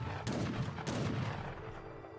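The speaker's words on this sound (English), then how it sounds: "There's like a gunshot every 2 seconds." Gunfire in the real-time strategy game Age of Empires III during a Dutch 2v1 match, a dense battle din of overlapping musket and cannon shots with two sharp louder blasts standing out.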